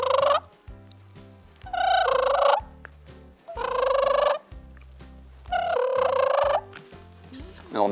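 A mouth call imitates a wild turkey hen's soft rolling purr, repeated in four rhythmic bursts separated by short pauses, close and clear with no talking.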